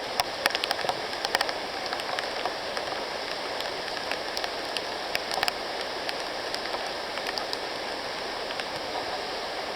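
Rain falls steadily in a humid mountain jungle forest in Puerto Rico, a dense continuous hiss with scattered sharper drips and patters close by, no voices.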